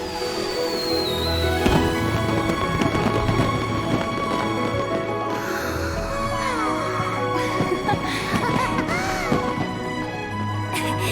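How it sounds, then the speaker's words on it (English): A fireworks show at the Lantern Rite festival in Genshin Impact plays under loud orchestral music, with whistling rockets rising and soft pops and crackles scattered throughout. "Traveler, please enjoy the grand finale of this year's Lantern Rite. The fireworks show."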